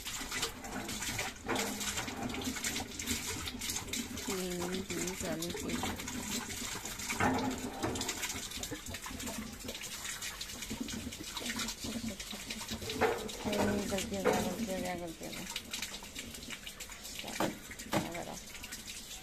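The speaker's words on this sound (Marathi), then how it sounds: "आता ही मशीन आता पाणी घेते ऑटोमॅटिकली." Front-load washing machine drawing in water on its own during a cleaning cycle, a steady hissing rush of filling water that runs throughout, with people talking over it.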